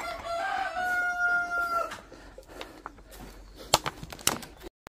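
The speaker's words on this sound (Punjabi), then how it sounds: "ਆਹ ਕੁੱਕੜ ਹੈ" A rooster crows once, a loud, drawn-out cock-a-doodle-doo close by, followed by a few sharp clucks and scattered clicks in a quiet yard.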